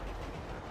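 A passenger train in the video game GTA 5 gives a steady, continuous rumble of rolling rail noise, loud and close throughout, with no talking over it.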